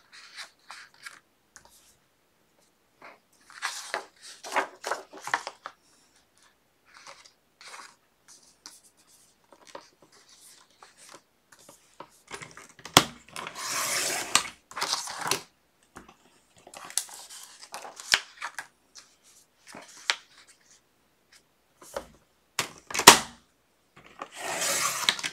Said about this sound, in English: I'm just cutting around so it can be exact, the measurements can be exact.